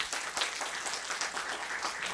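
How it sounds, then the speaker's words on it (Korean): An audience at a Parents' Day church gathering applauds the parents, a soft, steady, somewhat distant patter of many hands. "우리 엄마 아빠들에게 다시 박수를 좀 쳐드립시다"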